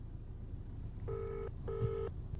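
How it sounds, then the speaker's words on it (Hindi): Two rings of a telephone ringback tone sound during a call to a helpline of the Afcons company, each a steady electronic burst of about half a second, separated by a short gap, over low background hiss. "हमने एफकॉन्स की ओर से जारी एक और हेल्पलाइन नंबर पर फोन किया"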